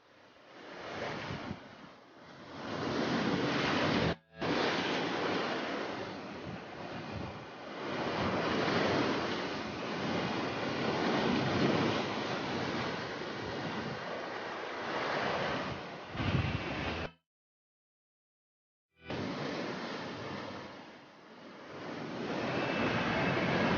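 Rough sea waves crash and churn against the shore while fishing in strong wind, a loud, continuous rushing surge with heavy wind buffeting the microphone, broken by a brief gap of silence.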